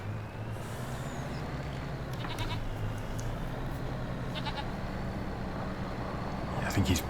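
Goats bleat in short bursts over a steady low engine rumble in a farming video game, Farming Simulator 25, with several brief calls spread across the scene, moderately loud.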